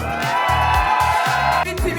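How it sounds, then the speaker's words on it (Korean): A team whoops and cheers at a company sports-day workshop, loud shouting voices mixed with upbeat music, dense and continuous for about two seconds. "우리 뜨거운 함성과 박수!"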